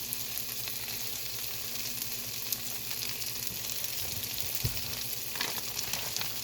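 Sausage sizzling on a chaffle maker, a quiet, steady crackling fry throughout with a few soft clicks and taps nearby.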